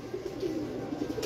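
Pigeons cooing softly at a breeder's loft, a low murmuring coo rolling steadily over faint background noise, no speech.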